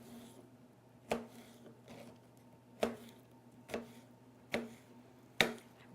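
Knife chopping pears on a cutting board, five sharp separate cuts spaced about a second apart over a quiet low background hum, close and with no talk.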